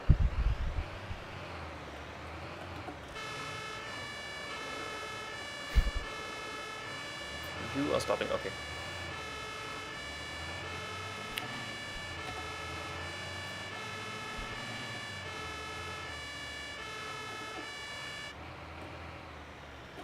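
An emergency vehicle siren in the video game Notruf 112 wails steadily for most of the stretch, with engine rumble beneath and a brief spoken line near the start.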